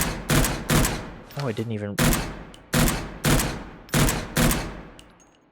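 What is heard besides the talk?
gunfire in video game Angels Fall First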